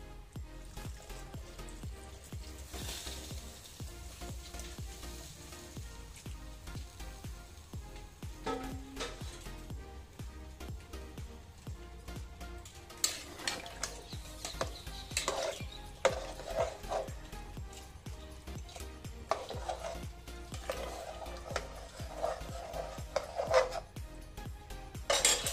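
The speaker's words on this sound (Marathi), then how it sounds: "याच्यामध्ये गरम पाणी घालते मी." Hot water is poured into a masala rice mixture in a pressure cooker and stirred, with metal clinks and scrapes of a utensil against the pot scattered irregularly through a quiet kitchen, growing busier toward the end.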